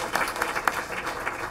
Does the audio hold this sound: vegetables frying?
no